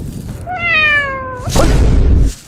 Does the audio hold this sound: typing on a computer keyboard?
no